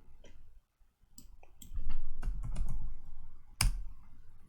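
Keys click on a computer keyboard as a search is typed into Google, a short burst of uneven close taps with brief pauses, ending in a sharper final keystroke.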